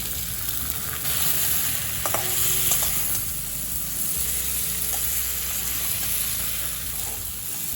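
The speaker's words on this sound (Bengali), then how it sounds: "শিমগুলোও দেখুন মশলার সাথে আর একটু ভাজা ভাজা করে নিলাম" Steady frying sizzle with stirring and scraping, as flat beans and spices cook in a pan, close and continuous without speech.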